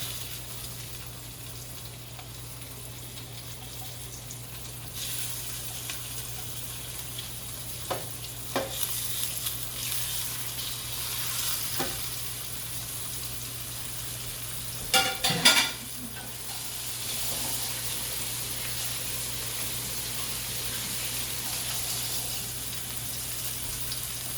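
A flour-dusted butterfish fillet fries in a pot, giving a steady soft sizzle under a low hum, with occasional stirring scrapes and a brief louder clatter midway, and no talk.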